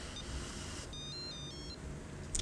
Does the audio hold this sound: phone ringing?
yes